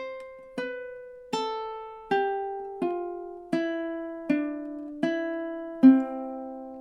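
Ukulele picked in campanella style, single plucked notes ringing over one another in a slow, even sequence of about nine attacks, close and clean with nothing else heard.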